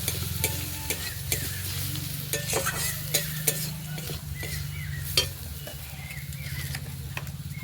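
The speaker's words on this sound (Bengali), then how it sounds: "মশলাটা ভালো করে কষানো হয়ে গেছে।" Spices with turmeric and coriander powder fry in a pan while being stirred, giving a steady low sizzle under repeated scraping and tapping strokes of a spoon, close and fairly quiet.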